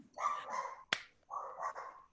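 A dog barks in two sustained bursts with a sharp click or snap between them, close by and fairly loud, with no talking over it.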